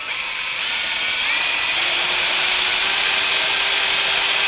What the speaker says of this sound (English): I'm using my Rockwell drill, which I really like. Any cordless drill will work.